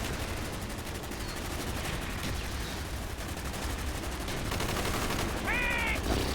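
Gunfire in Call of Duty: Black Ops, a sustained dense rattle of shots under a busy, noisy game soundscape that grows slightly louder toward the end.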